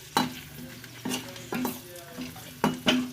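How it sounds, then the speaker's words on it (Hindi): Green chillies dropped into hot ghee over a medium flame, with a soft sizzle under several sharp utensil clinks and stirring scrapes against the pan, close by and without talk. "अब हम इसके अंदर हमारी मिर्ची डाल देंगे और इसे मीडियम फ्लेम पे हम पकाएंगे।"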